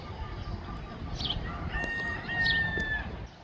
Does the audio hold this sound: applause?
no